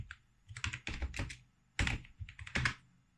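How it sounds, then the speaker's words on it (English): Typing on a computer keyboard, with quick close clusters of clicky keystrokes in short bursts separated by brief pauses, no speech. "Just type install node on your Google."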